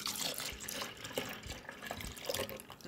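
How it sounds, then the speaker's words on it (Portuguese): About 395 ml of milk poured into a condensed-milk pudding mixture, a close, steady liquid splashing and gurgling that lasts a few seconds before stopping abruptly. "Vamos adicionar 395 ml de leite."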